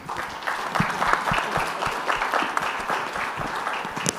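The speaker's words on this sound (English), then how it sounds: "please join me in giving them a round of applause" An audience at a conference applauds the panelists, giving a sustained crowd of hand claps with scattered louder individual claps standing out, steady and moderately loud throughout.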